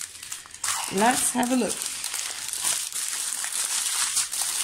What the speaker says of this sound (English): I'm one of those people who likes the crinkling sound